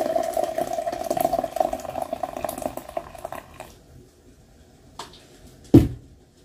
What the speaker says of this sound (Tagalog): And then, lagyan na natin siya ng tubig